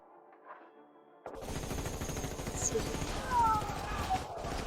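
Rapid modern-weapon gunfire volley erupts abruptly after a quiet start and continues as a dense, sustained burst of loud shots, with shouting voices mixed in.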